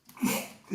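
A single sneeze from someone off to the side during a sports recruiting discussion, a short sharp burst with a quick intake and release, fairly close and moderately loud.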